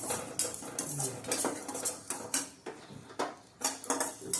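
Black salt powder dry-roasting in a pan for mixed mukhwas, heard as repeated scraping and clinking strokes of a spoon against the metal pan in an uneven rhythm, close and fairly loud with no talk.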